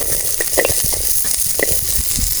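Chillies and onions fry in a little oil in a pan for a curry, giving a close, crackling sizzle punctuated by quick stirring clicks.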